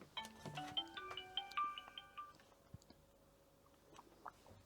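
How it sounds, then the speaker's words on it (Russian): An incoming call's phone ringtone chirps in a short melodic electronic pattern of repeated tones, fairly quiet, followed by faint room noise and a few small clicks. "Саша Полосухин звонит, давайте."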